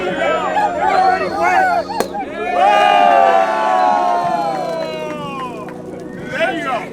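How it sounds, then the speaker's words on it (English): A crowd cheers and whoops at a supercar event in Miami beside a Ford GT, with loud excited shouts and voices rising and falling over scattered clapping. The cheering stays close and lively throughout. "Come on, a loud hand of applause."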